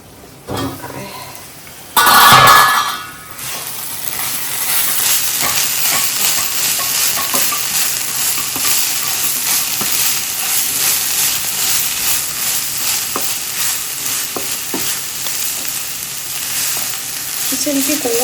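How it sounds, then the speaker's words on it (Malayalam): Mushroom thoran cooking in a pan, with a loud clatter of the lid or spoon early on, then a steady sizzle and frying hiss with occasional stirring scrapes throughout. "എന്നിട്ട് നമുക്കിത് എന്നുവെച്ചാൽ ഇടയ്ക്കൊന്ന് തുറന്ന് ഇളക്കി കൊടുക്കാം"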